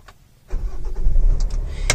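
A Hyundai Venue engine starts after a brief quiet moment, catching with a short, slight rev and then settling into a steady idle close by, with a small sharp click near the end.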